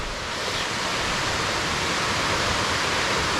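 Thusharagiri waterfall pours continuously, a dense, steady broadband roar of rushing water that stays loud and unbroken throughout.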